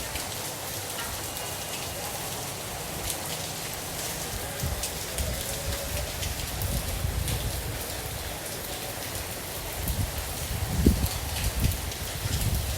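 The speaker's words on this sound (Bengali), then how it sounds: "বৃষ্টির আওয়াজ।" Steady rain falling, likely heard from inside a car on an empty road, a continuous broadband patter with a few louder drops and thumps near the end, no voices.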